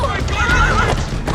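A horse whinnies in a tense scene from The Last of Us TV series, a short shrill neigh close by, with shouting voices and hoof clatter mixed around it.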